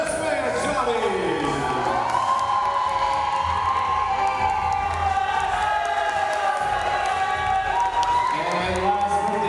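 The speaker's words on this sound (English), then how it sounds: "let's give a big round of applause" Wedding reception guests cheer and whoop through the party introductions, a loud, continuous crowd roar with scattered shouts.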